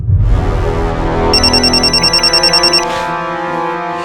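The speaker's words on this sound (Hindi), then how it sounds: "उठा फोन उठा ले" A telephone rings with a rapid trilling electronic bell for about a second and a half over a low musical drone, then stops as the tone fades.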